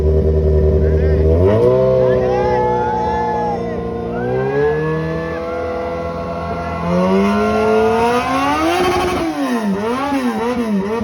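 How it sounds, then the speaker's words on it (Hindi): A Kawasaki Z1000 motorcycle with its natural exhaust idles and then revs in rising and falling pulls, loud and close, while people talk over it. "ये इसकी नेचुरल एग्जॉस्ट की आवाज है।"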